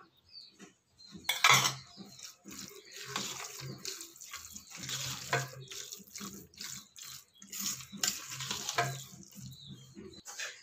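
A spoon mixes curd rice in a vessel, giving quiet, close, irregular wet squelches and scrapes with occasional clinks against the pot, coming in uneven bursts without talk.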